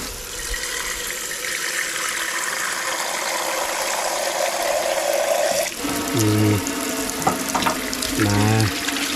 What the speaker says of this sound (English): put water in that, see what happens